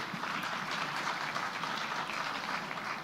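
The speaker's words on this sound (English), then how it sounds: "Let's give her a round of applause" Seminar audience at a Kenya travel expo giving a round of applause, a steady even wash of many hands clapping at moderate volume, continuous for the full few seconds.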